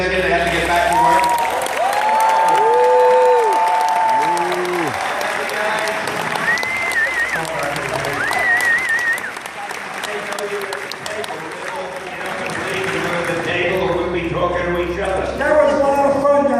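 A convention crowd at MegaCon 2015 in Orlando gives a loud, sustained round of applause for a special guest, with scattered cheering and voices mixed into the clapping.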